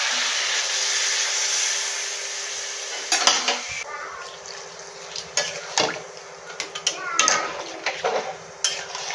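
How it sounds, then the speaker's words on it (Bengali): Water poured into a pan of frying cauliflower and potato curry, a steady hiss and rush at first, then clinks of a pot and utensil as it is stirred, close and moderately loud. "एबारे आमि जल दिए देब।"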